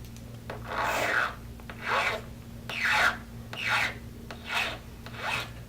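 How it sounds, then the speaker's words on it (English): A file rasps across metal while shaping a rivet, six slow, even strokes, each a harsh scraping swell, close up with a faint steady hum behind. "take the file and just gently roll the metal around it"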